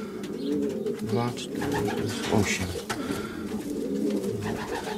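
Racing pigeon from the Grodzisk Wielkopolski section cooing softly in a loft, low repeated calls under ongoing conversation in Polish.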